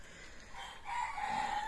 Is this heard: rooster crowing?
yes